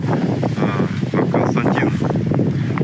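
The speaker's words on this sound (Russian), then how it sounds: "Дует ветер, сейчас уже не очень сильный, но час назад он был ураганный." Strong wind blows on the bank of the Don river during a fishing trip, a loud, constant rushing roar buffeting the microphone for the full length.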